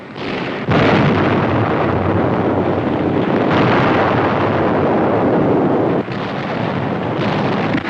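American artillery explosions on a 1944 wartime newsreel soundtrack, a loud, dense roaring rumble of blasts that swells and sustains for several seconds with abrupt shifts in intensity.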